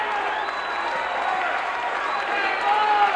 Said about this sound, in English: now the crowd is riding. They're riding Reed.